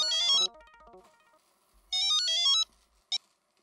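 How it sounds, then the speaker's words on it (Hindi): A mobile phone ringtone plays as someone calls a friend, a bright electronic melody heard in two loud bursts with a short blip after, fairly clear and with no talking. "अच्छा अब्दुल को फोन लगाता हूँ।"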